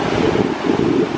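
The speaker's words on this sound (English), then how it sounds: "Enough waves so I could touch the water." Pacific Ocean surf rolls in at a beach in Peru, a steady broadband wash of breaking waves mixed with wind buffeting the microphone, continuous and fairly loud with no voices.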